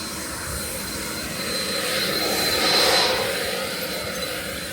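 A leaf blower runs during cleanup of a dangerous old garage, a loud, steady engine-and-air roar with a high whine that swells toward the middle and then eases slightly.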